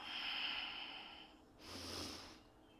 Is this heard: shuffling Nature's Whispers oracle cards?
no